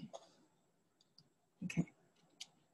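Sparse keyboard typing in a quiet room: a few scattered, light key clicks followed by a brief louder cluster of keystrokes, close and soft, with no talk.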